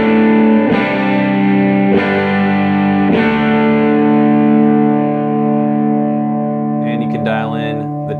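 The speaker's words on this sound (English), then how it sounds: "you can dial in the power amp to get a little bit more natural distortion" An electric guitar through power amp distortion rings out three loud sustained chords, each struck about a second apart and left to decay, ending with a few faint bent notes.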